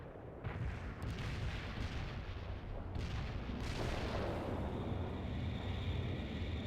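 Artillery barrage explosions in the video game World in Conflict, a continuous heavy rumble of overlapping booms and blasts that stays loud and dense from start to finish.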